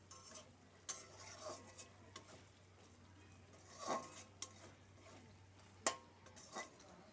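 Spice paste is stir-fried in a pan for an egg and carrot halwa, giving soft, faint scraping stirs and a light sizzle in a quiet kitchen with occasional utensil clinks.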